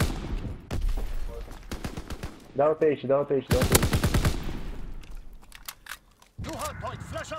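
Gunfire bursts crackle in an online shooter match, short volleys and single shots scattered between players talking over voice chat.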